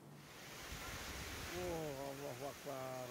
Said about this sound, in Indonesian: Video amatir warga ini merekam detik-detik saat hujan deras disertai angin kencang melanda sejumlah desa